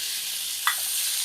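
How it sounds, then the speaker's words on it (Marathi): Tomatoes dropped into frying onions in a pan, a steady hiss of sizzling oil with a brief sharper crackle as they hit, close and alone without talk. "आता मी याच्यात टोमॅटो घालते"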